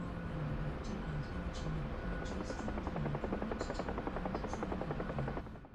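A Chinook helicopter in the DCS flight simulator keeps up a loud, steady rotor thump with a pulsing beat under engine whine, continuous throughout before dropping off sharply at the end.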